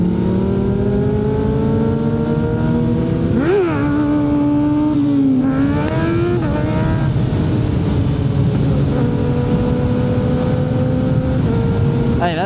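A Suzuki Hayabusa motorcycle on a ride, a loud continuous engine drone with rising and falling revs and gear changes heard close up under steady wind noise.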